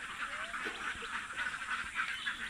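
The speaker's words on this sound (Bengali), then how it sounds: "এটা একটা ছোট একটা হাঁসের farm pack pack pack pack করতেছে সকালে" A group of ducks on a small duck farm in the morning quacks continuously and noisily, overlapping calls close by with a steady rhythm of honking throughout.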